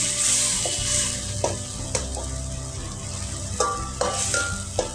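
Hot cooked rice being stirred into a tomato mixture in a pan, with a steady sizzle of frying throughout and several sharp spoon-on-pan scrapes and clicks, close and fairly loud.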